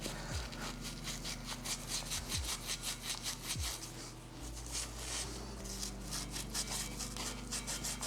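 A Scotch-Brite pad scrubs rust off engine parts in steady, rhythmic back-and-forth strokes, faint and close, over a low hum.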